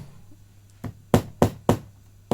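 Sharp hammer taps on the metal frets of a sassafras OM acoustic guitar being fretted, five distinct knocks with the last four evenly spaced and loud, close by, no talking.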